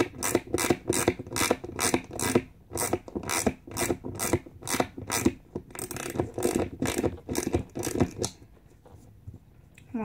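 Wrench ratcheting on a longboard wheel nut: rapid bursts of sharp clicking pawl ratchet strokes, close and fairly loud, repeated in quick runs with brief pauses between them.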